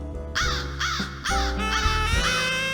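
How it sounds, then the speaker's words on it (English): A crow caws repeatedly in a harsh, rhythmic series of loud, close calls, heard alone without talk, within a narrated retelling of Aesop's fable of the crow and the fox. "The crow could not resist such praise. She began to caw."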